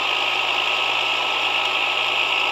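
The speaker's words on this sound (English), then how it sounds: "I'm driving in a red truck, but it has a trailer on it." Red truck pulling a trailer in Farming Simulator 18, a steady, loud, even engine drone with faint rattling vibration and no variation throughout.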